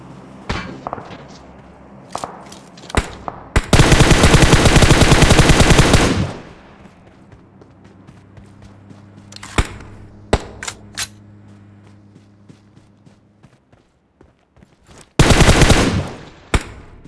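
Gunfire in the mobile shooter BGMI, with single sharp shots scattered throughout and two sustained bursts of rapid automatic fire, loud and close, over a low game background hum.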